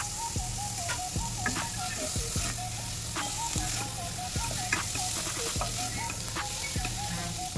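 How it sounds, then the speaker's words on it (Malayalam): Chopped coriander and mint leaves sautéing with spices in a pan for tomato rice, a steady close sizzle broken by regular rhythmic scrapes and clinks of a stirring spoon. "ഇതിലേക്ക് അരിഞ്ഞ മല്ലിയിലയും പുതിനയിലയും ചേർത്ത് വഴറ്റിയെടുക്കാം."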